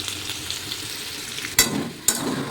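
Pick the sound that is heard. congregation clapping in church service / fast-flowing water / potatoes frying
potatoes frying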